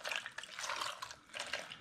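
Water poured from a container into a saucepan of chopped apples, a steady near splashing trickle that swells, dips briefly near the end, then returns, with no talking.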